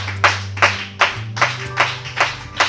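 A church congregation claps together in praise of God, seven loud, sharp, evenly spaced claps about two per second, with a low hum of music underneath and no talking.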